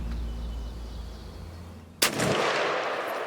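A single sharp gunshot cracks out loud and close in an outdoor hunting setting, breaking a steady low rumble and leaving a bright, noisy wash of echo and ambience behind it.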